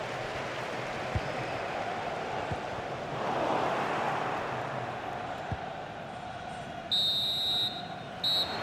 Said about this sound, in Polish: Słyszymy gwizdek kończący pierwszą połowę.